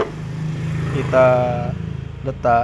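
A car engine idling in an engine bay during a used-car radiator check, a low steady rumble with a person speaking over it in short bursts.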